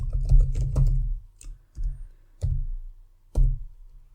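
Someone types a formula on a computer keyboard in Power BI: a few separate, heavy, close taps with short pauses between them, clear against near silence.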